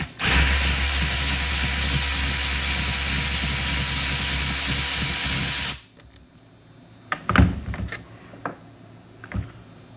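A ratchet or spray-like mechanical burst runs loud and steady for several seconds while Allen bolts are backed out of a FiTech fuel rail, then stops abruptly, followed by a few faint clicks and knocks.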